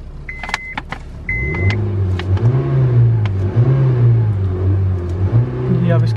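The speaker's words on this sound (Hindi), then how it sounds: "तो अब जो है वो गाड़ी स्टार्ट करते हैं" Honda City 2019 with a Prosmatec automatic gearbox, filmed in Pakistan, fires up after a brief starter whir and settles into a steady, close idle with small revs, while someone talks over it.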